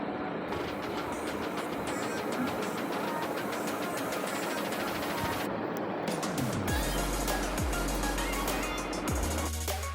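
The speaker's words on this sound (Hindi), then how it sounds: "अब हम इसको भून लेंगे मसाले को।" Dense, continuous sizzling and crackling of masala frying in a pot for mutton aloo gosht, loud and close throughout, with a few low thumps and stirring bumps toward the end and no talking.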